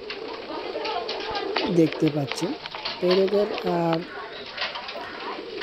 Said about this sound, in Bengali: এটাও দেখেন আমার এই দুইটা কবুতর, এই যে মাদি, এটা একটা মাদি